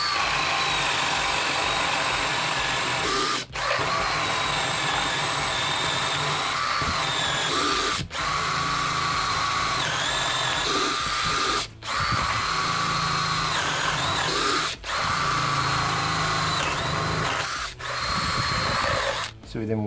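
A Makita DDF482 cordless drill drives a screw with a loud, steady whine that runs for about twenty seconds, broken by several short gaps where the motor stops and restarts, the bit slipping in the chuck.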